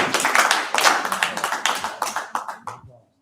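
An audience applauds at a city council meeting, with brisk, crowded clapping that gradually thins and dies away into silence within about three seconds.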